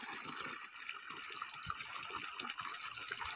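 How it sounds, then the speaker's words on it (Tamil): Water gushes steadily through a field irrigation channel beside a temple during a Pongal visit, a continuous close rushing with low gurgles and no voices. "தண்ணி அவ்வளோ சூப்பராக ஓடுது பாருங்கள்."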